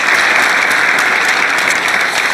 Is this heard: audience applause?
yes